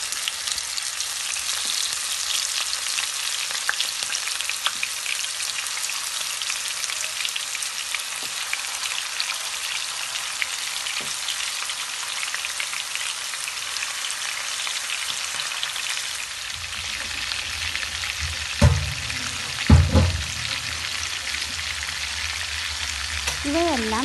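Chicken leg pieces fry in hot oil with curry leaves, giving a steady, dense sizzle throughout, with a couple of louder pops and stirring sounds near the end.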